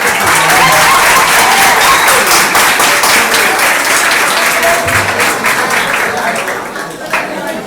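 Loud, sustained clapping from an audience at a classroom dialogue session, dense and even throughout, easing slightly near the end.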